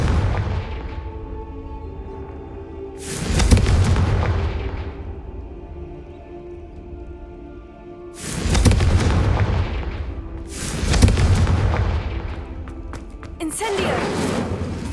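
Confringo blast spells exploding in Hogwarts Legacy, several loud booming bursts with sharp attacks and rumbling decays, spaced a few seconds apart, with spell shouts heard between and over them.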